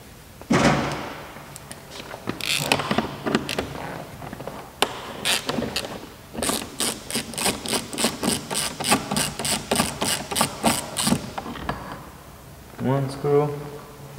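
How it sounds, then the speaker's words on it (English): Screws coming out of an Infiniti Q50 door panel make a quick run of regular, evenly spaced clicking bursts, with scattered knocks and handling thumps before and after. "Now, remove the screws."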